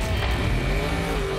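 A Hot Wheels monster truck accelerates at full throttle, a loud, close, sustained engine and tire roar that rises briefly.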